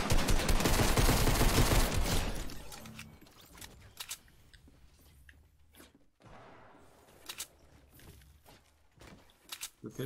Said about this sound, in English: The pistol actually goes crazy.